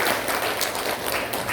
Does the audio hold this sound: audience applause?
yes